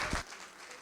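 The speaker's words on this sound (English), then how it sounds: "Let's give them another round of applause" Audience at an adult education session gives a brief round of clapping, with an even spread of hands at moderate distance and a short thump at the start.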